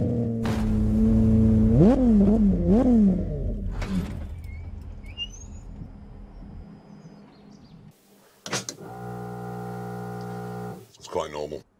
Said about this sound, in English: now it's time to fire up the 7-litre V12